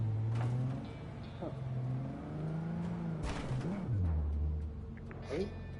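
A car engine in the game Cyberpunk 2077 revs while the car is stuck and jammed at a gate, its pitch rising and falling in uneven surges under a voice.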